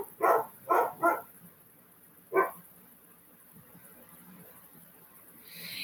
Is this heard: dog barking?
yes